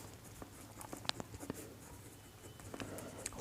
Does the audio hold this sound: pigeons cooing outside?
no